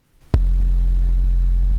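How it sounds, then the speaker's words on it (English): A deep sine-wave bass note played on the Phase Plant software synthesizer starts abruptly and holds steady and loud for about a second and a half with a faint buzzy edge, then cuts off, with no voices. "play a nice sine wave down there."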